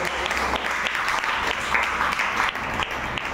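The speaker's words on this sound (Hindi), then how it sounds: "जोर से एक बार हम लोग ताली बजाएंगे" A church congregation at Sunday worship claps together, steady fairly loud applause with scattered sharper claps, continuing for a few seconds.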